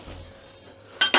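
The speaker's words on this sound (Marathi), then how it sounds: "ते या डब्यातनंच मी घेणार आहे पळीने" A metal ladle scrapes and clinks against an oil tin in a kitchen, two sharp metallic hits close together at the end after a near-silent stretch.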